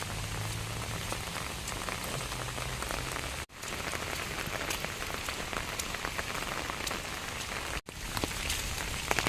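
Heavy evening rain pours steadily on a farmstead, a dense continuous hiss of drops on surfaces with two brief dropouts, no voices.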